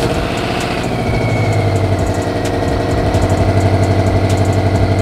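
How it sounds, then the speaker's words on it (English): A Subaru Forester engine turns over and settles into a steady, rhythmic idle, loud and close, with no voices. "Let me go crank the car up."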